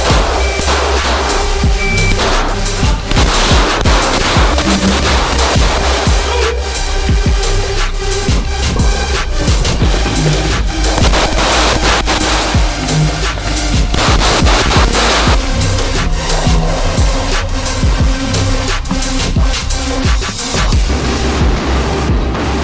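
Gunfire rings out at a shooting range in Valence, France, a loud, dense stream of rapid sharp reports and echoing booms continuing without pause for over twenty seconds.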